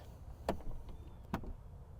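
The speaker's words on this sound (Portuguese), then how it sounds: "A porta fecha por sucção." A Porsche Cayenne door is gently pushed and its soft-close mechanism pulls it shut, giving two soft close thuds about a second apart with a faint mechanical whir between them, nearby and quiet.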